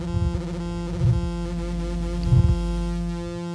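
Steady synthesizer oscillator sine tones hold under a low buzzing hum, with a few brief bursts of noisier warble, then settle into a flat sustained drone.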